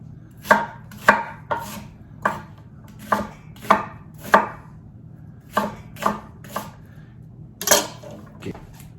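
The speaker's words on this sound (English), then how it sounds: "we're just gonna chop this onion," A knife roughly chopping an onion on a cutting board: a dozen sharp, close thuds at an uneven rhythm, each a crisp knock with no voices.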